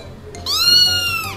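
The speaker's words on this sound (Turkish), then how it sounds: "Evden miyav diye bir ses geliyor." A cat gives a single loud, close meow, rising then falling, over a quiet indoor background.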